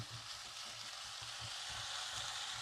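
Tomatoes fry in a pan on high heat for a masala potato curry, giving a steady close sizzle with soft rhythmic stirring scrapes and no talk.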